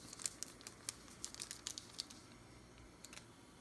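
A ramen seasoning packet is torn open, giving a quick run of crisp crinkles and tearing snaps close by and fairly quiet, tapering off after about two seconds.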